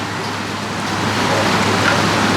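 Heavy rain falls during a storm, a dense, steady hiss of drops on surfaces, loud and continuous, with no voices.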